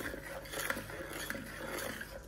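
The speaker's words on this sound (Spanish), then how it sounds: "Batimos para disolver el azúcar." A whisk or spoon beats sugar into water in a bowl, giving faint scraping and light clinks against the sides in a steady rhythm, quiet and alone.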